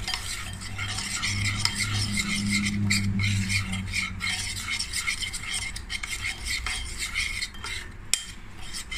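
Spoon stirring a prawn tempura marinade with olive oil in a bowl, a steady scraping and swishing rhythm lasting throughout, close and moderately loud with no talk.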